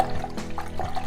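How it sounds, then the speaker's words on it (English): A paintbrush swished in a jar of soapy water, giving brief watery sloshes and light splashes in quick succession, close and moderately loud. "now I'm going to wash the brushes I just used"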